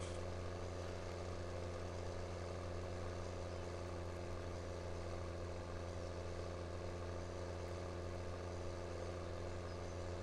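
A T9 tractor in a farming game climbs a hill with a steady, droning engine hum that stays constant and loud throughout, with no talk.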